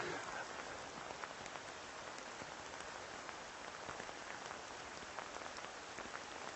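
Heavy rain pours down in a dense, steady hiss with scattered close drips, continuous and fairly loud, with no voices.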